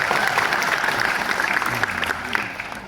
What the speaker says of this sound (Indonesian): Kurang kencang nih tepuk tangannya nih ya.